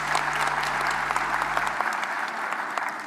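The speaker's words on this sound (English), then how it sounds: "Give them another round of applause for me" Sustained audience applause at a live election results event, steady dense clapping from a large crowd filling the whole moment at even loudness, with a low hum in the background.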